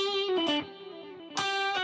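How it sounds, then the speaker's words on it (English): A sustained electric guitar note through two stereo delays with a shimmering, echoing tail, repeats bouncing back softly before a fresh strum rings out. "I got two delays on each side."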